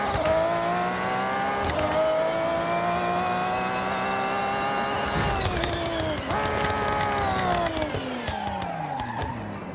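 A tuned car's engine in the Forza Horizon racing game, revving hard with rising and falling pitch sweeps, gear shifts and a tire skid, loud and close throughout.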